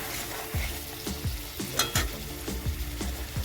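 Tangra fish being fried down (koshano) in oil in a pan, with a steady close sizzle and repeated scraping stirs of a spoon against the pan, no voices.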